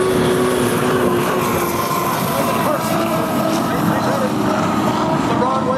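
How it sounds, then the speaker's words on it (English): A racing hydroplane boat's engine drones steadily as it passes during a test session at the Madison Regatta, a continuous high-pitched mechanical whine with crowd or commentary noise underneath. "here comes the Webster boat, the 22, the Broadway Tavern"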